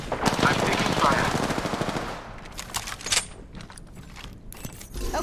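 Rapid automatic gunfire in the Apex Legends video game, dense and loud for about two seconds, then sparser mechanical clicks and a few scattered shots closer to the end.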